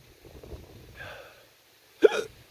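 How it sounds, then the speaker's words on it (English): A single sharp hiccup from a man after eating hot cayenne peppers, preceded by quiet, indistinct vocal sounds. "Oh, making me hiccup."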